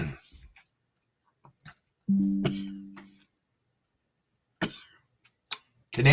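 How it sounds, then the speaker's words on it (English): A few dry coughs and throat sounds break up near-silence, close by and separated by quiet pauses. "Excuse me for coughing."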